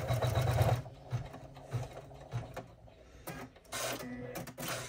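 An embroidery machine stitches a strap placement line on a mini tote bag, giving a rapid mechanical whir and chatter up close, loudest at the start, with clicks and brief pauses after.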